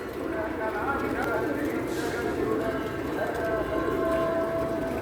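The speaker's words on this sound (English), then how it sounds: "I'm very happy that lots of birds are there today with gratitude." Many birds, pigeons among them, gather at an outdoor feeding spot, with cooing and chirping calls mixed into a steady busy outdoor bed of sound, accompanied by voices talking.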